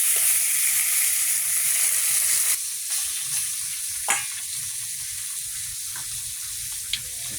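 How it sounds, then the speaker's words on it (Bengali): Rupchanda fish frying in oil in a wok, a steady bright sizzle with soft crackles, a brief stir and a couple of sharp clinks against the pan. "মাছগুলো ভাজা হয়ে গেছে, তুলে নাও"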